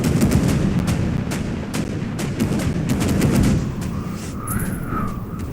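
Naval guns lay down cover fire in NavalArt, a rapid stream of loud repeated shots over a dense rumbling battle din, continuous and close.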